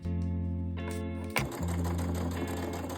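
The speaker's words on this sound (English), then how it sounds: "Go ahead and clip the bottom, and you're gonna sew about a 1/4 inch." An electric sewing machine runs a quarter-inch seam on a mini tote bag, stitching in a loud, steady close-up hum with a brief pause partway through before it resumes.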